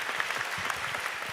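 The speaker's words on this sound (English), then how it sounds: "I think it's time to stop now and give final applause to Sari." Conference attendees applaud at the end of a keynote talk, a brief burst of dense, even clapping heard on its own.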